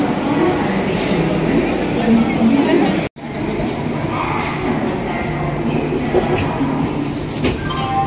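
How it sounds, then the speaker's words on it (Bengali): A train pulling out of Howrah station rumbles steadily as heard from inside a passenger coach, a loud continuous roar with one brief dropout partway through. "11:25 অন টাইমে ট্রেন ছেড়ে দিয়েছে হাওড়া স্টেশন"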